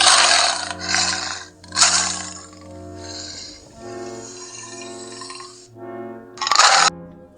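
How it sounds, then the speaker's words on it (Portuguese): A tiger gives several deep, growling roars in separate bursts, close and fairly loud, with rumbling, throaty stretches between the louder blasts and no talking. "Esse aqui é o rugido do tigre."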